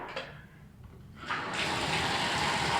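A bathroom tap in a house under inspection is turned on, with water starting at a low splash and swelling into a steady, fairly loud rushing flow.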